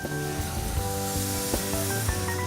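Water poured into a hot sauce pan after scrubbing the bottom, setting off a loud continuous sizzle and hiss of steam with no talking.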